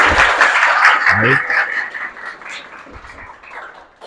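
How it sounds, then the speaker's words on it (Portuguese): An audience applauds two guests at a finance talk, a steady clatter of clapping that slowly thins and fades, with a little speech mixed in. "Uma salva de palmas para os dois convidados"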